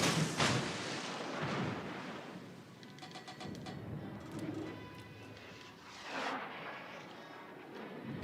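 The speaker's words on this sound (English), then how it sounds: "the battleship will engage the turrets" Heavy battleship turret guns firing in a naval video game, several deep booming salvos rolling out across the stretch amid game noise.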